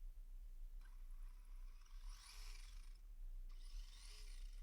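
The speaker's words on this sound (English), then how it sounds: "Give it a little throttle for you." A Redcat RDS competition-spec RC drift car's electric motor, on a 2S LiPo, whines in two steady bursts of throttle, each lasting a second or two, with constant background noise underneath and no speech.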